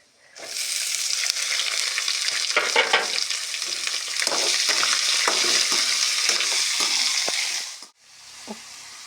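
Finely chopped onions frying for avalakki, a loud, close, continuous sizzle with scraping stirs running through it, ending abruptly in quiet with one small clink.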